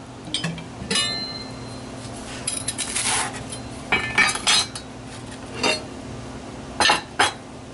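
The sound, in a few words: dishing up SOS, dishes and cutlery clinking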